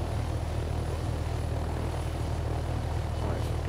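Helicopter rotor and engine drone from the Take On Helicopters game, a steady, dense whirring roar that holds unchanged throughout with no talk.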